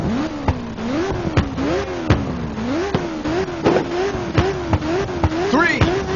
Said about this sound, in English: it's time to fire up those engines.